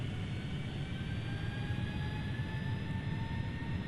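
Boeing 757 jet engines in the FSX flight simulator, throttling up with a steady whine, faint tones slowly climbing in pitch over a constant low roar, no talk.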